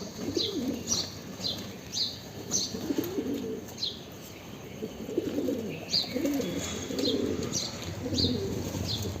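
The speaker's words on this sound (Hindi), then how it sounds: "कबूतर है जो छत के ऊपर खाली मंडरा रहा है" Pigeons circle above a rooftop, their coos and soft wingbeats recurring in loose bursts over a steady outdoor background, sometimes near and sometimes drifting farther off.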